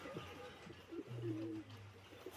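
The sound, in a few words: Royal Teddy pigeon cooing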